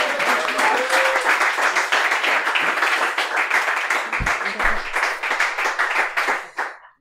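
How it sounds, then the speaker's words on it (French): A small audience applauds a guest on a French podcast, a dense burst of close clapping that holds steady and then tapers off, with a voice briefly heard underneath. "On applaudit Hubal, Max."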